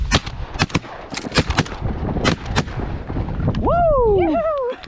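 Shotguns fire at geese during a warm-weather January goose hunt. A rapid volley of sharp, loud shots rings out in quick succession, followed by a rising whooping call at the end.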